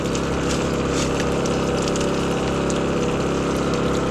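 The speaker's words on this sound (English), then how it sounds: "It's showering a Land Cruiser." A portable shower pump sprays water onto a Land Cruiser, making a loud, continuous whirring motor hum mixed with steady hissing spray that holds unbroken from start to finish.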